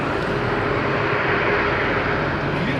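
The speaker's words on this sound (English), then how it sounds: "beautiful, powerful takeoff" Airliner jet engines roaring at full power during takeoff at Madeira Airport, a steady loud broadband rumble with no break for the whole stretch.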